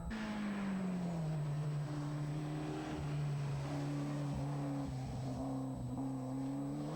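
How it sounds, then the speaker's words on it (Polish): An Opel Astra rally car with a two-litre engine drones steadily at a distance, its engine note falling slightly, then rising and holding, with no voices over it. "To Opel Astra z dwulitrowym silnikiem."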